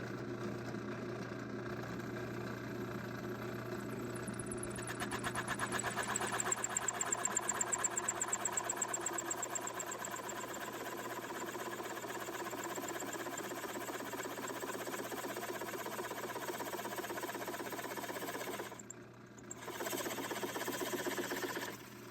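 A hole saw spinning continuously as it drills through a workpiece into the same pilot hole from the flipped side, a steady loud motor whine with a brief dip near the end.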